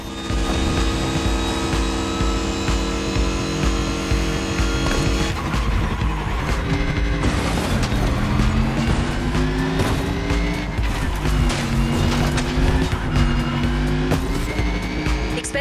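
Race cars in The Crew Motorfest during a long race, engines whining and rising in pitch through shifts with tyre noise, loud and continuous with no talk.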